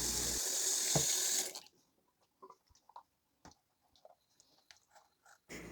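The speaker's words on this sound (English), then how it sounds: "I place them in a large container, fill it with hot water, and add Dawn dish soap." Hot water gushes loudly into a large container to soak makeup sponges, then stops after about a second and a half, leaving faint clicks and small handling sounds.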